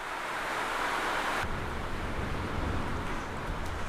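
Steady rain hisses continuously, dense and close, near a classroom setting; midway the high wash thins and a lower, rougher rush of falling water takes over, with no voices.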